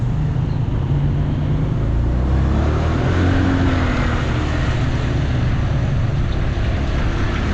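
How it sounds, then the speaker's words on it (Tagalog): A motorized tricycle engine runs close by in a steady, loud drone with a low rumble that holds from start to finish and no speech over it. "Malakas yung tricycle guys."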